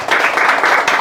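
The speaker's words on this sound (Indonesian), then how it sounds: "Berikan sorak-sorai buat Tuhan." A church congregation claps and cheers together in worship, a loud, sustained wash of applause with no break.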